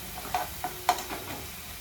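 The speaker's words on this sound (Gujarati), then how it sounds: "મસ્ત મજાના ચણા વઘારે છે" Chickpeas being tempered in a hot pan, a soft steady sizzle with three quick spoon taps against the metal, close and quiet with no voices.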